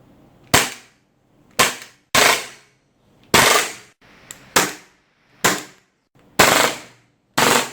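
A WE Galaxy gas blowback airsoft pistol fires eight sharp, close cracks at uneven intervals, each with a short fading tail, and no talking.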